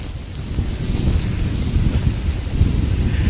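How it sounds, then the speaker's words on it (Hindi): Strong cyclone winds roar steadily in Mumbai as Cyclone Nisarga makes landfall, a loud continuous gusting rush buffeting the microphone with no voices. "इस वक्त बहुत तेज हवाएं चल रही हैं मुंबई में।"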